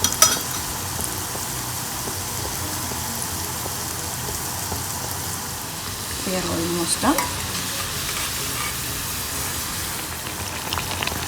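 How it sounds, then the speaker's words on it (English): Mung dal dumplings deep frying in hot oil give a steady, close crackling sizzle that runs throughout, with a brief stir or clatter midway and a voice speaking briefly over the frying. "The dumplings are frying."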